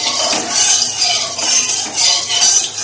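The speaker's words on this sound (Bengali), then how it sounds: "আগে আমি তেলটাকে একটু নেড়ে নিই।" Oil is stirred in a pan with a spatula before fish heads go in, giving a loud close hissing swish that swells and fades in a slow repeating rhythm.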